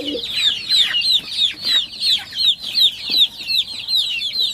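Chickens clucking close by, a run of repeated sharp clucks in a steady pulsing rhythm, loud and clear over quiet farmyard background.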